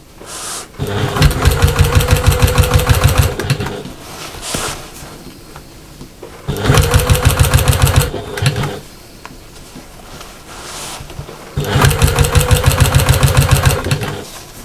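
A sewing machine stitches the seams of a small fabric backpack in three loud, steady bursts of rapid needle chatter with a motor hum, separated by short quiet pauses.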